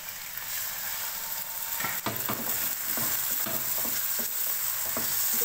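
Minced chicken keema sizzles steadily in a hot pan while a spoon scrapes and stirs through it, the frying hiss continuous and close with rhythmic scraping strokes.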